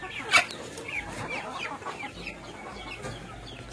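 Brahma chickens cluck at feeding time, with a sharper squawk near the start followed by softer scattered clucks over quiet background noise.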